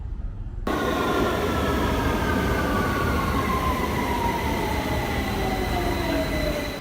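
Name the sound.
subway train at Green Park station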